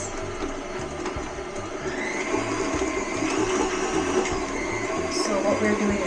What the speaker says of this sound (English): So what we're doing is creaming the sugar and the butter.